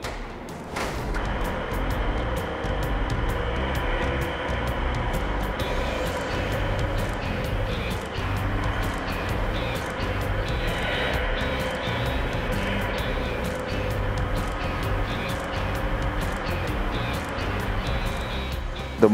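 The engine of a Snorkel aerial lift rises and falls in pitch as its proportional controls are worked, a steady mechanical drone with shifting revs, and a voice talks over it.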